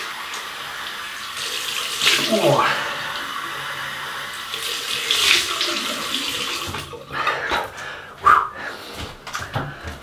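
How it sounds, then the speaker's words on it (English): Cold water runs from a tap during a wet-shave rinse after lathering with shaving soap, a steady splashing flow with brief bursts and a short spoken exclamation. "There we go. Cold water rinse."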